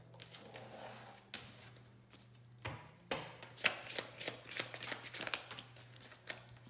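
Tarot cards riffle and snap as a deck is shuffled and cards are pulled, quiet at first, then a run of crisp, close flicks and slaps.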